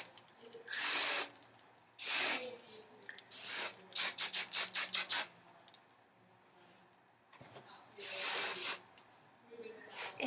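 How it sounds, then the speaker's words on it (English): Hairspray misted onto a dancer's styled hair in bursts: several longer hisses, a rapid run of six short puffs, then another long spray, close and crisp with quiet pauses between. "Finish it off with some hairspray."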